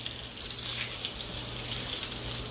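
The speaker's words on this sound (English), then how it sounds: "So, it's frying up." Red snapper frying in a pan gives a steady, close crackle and hiss that runs evenly throughout with no talk.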